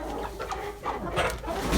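Turkeys call outdoors on a wet, freezing night in Nova Scotia, sending out a few short clucks and gobbling bursts at moderate distance over a steady background hum.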